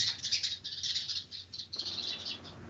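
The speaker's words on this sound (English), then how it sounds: "there are a lot of birds chirping outside my room" Birds chirp and tweet outside a room, a busy run of high bright calls overlapping one another, fairly faint and steady throughout with no voices.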